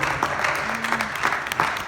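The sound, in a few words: congregation clapping hands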